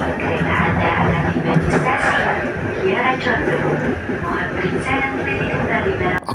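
A train runs on rails, heard from inside a carriage, with a dense, continuous rumble and rattle under people talking nearby.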